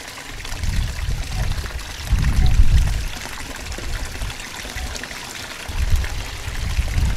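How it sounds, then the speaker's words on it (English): Water from a garden fish pond waterfall pours and splashes steadily, a continuous near rushing trickle that swells in loudness now and then, with no talk over it. "We have a waterfall."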